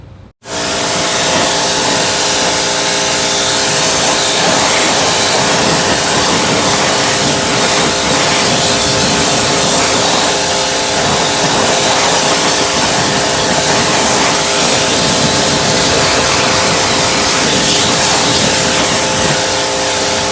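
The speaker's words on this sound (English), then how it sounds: "we're gonna spray the water without agitating to show you the strength of the product" A pressure washer sprays water onto a car wheel coated in fast-acting wheel cleaner and brake dust, a loud continuous hiss with a steady pump drone that starts abruptly and runs unbroken to the end.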